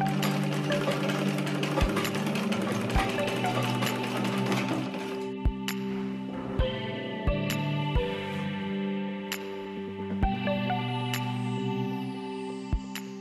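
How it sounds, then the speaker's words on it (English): Strips of fabric are sewn together on a sewing machine: a fast, steady mechanical whir runs for several seconds, then gives way to slower, spaced stitching clicks and short bursts, close and clear with no talk. "I ended up cutting two pieces with about 32 cm and sew them"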